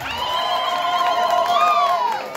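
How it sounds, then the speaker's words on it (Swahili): Schoolchildren cheer and shout together at a school prayer day for Grade 6 and 9 pupils, a loud, sustained, high-pitched crowd roar with a few faint claps underneath. "Simnipigie makofi jamani."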